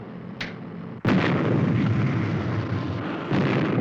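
A sudden loud blast gives way to a roaring, rumbling vehicle engine that keeps going steadily, with a heavy, noisy drone.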